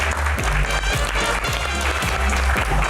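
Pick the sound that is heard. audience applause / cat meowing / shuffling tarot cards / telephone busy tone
audience applause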